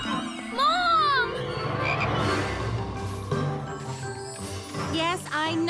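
A cartoon frog in a tub croaks loudly in a series of rising, warbling croaks, with children's voices and background sounds mixed around it.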